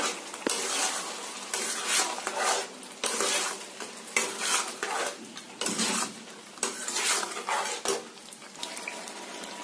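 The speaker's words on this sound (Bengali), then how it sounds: "এবার এটাকে সুন্দর করে কষিয়ে নেব।" Chicken kosha being stir-fried in a pan: a spatula scrapes and stirs against the pan in irregular bursts, with a faint sizzle underneath and no talking.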